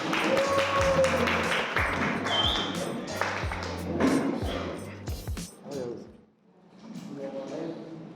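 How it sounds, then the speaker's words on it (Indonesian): Children in a classroom clap for a student group, a patchy burst of claps and taps mixed with chatter and a teacher's voice, fading as talk takes over near the end. "Beri semangat tepuk tangan buat kelompok 3 anak-anak"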